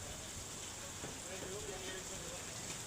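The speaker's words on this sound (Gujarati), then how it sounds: "પવન અને ત્યારબાદ વરસાદી છાંટણા અને ઝાપટા પડ્યા" A rain shower with strong winds falls around SG Highway in Ahmedabad, heard as a faint, steady hiss of rain on surfaces, with a voice briefly audible beneath it.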